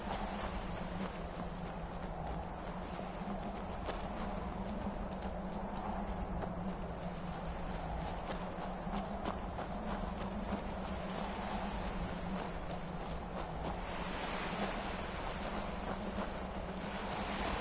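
Steady rhythmic clip-clop of horse hooves at a trot in the video game Skyrim, continuous and fairly even, over a constant low background hum.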